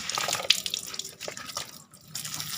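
Water poured from a scoop over a freshly planted santigi (Pemphis acidula) shrub, a soft, continuous splashing and trickling with small drips, fairly close and low in level.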